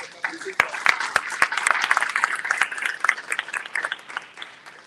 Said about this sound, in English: Round of applause for Lula.